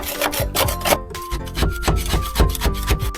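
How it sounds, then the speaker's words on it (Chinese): A steel wire brush on an angle grinder scours the metal body of a 2015 Wuling Zhiguang van, a harsh, close rasping scrape repeating in quick rhythmic strokes with a faint motor whine underneath. "用这种钢刷配合角磨机来打磨"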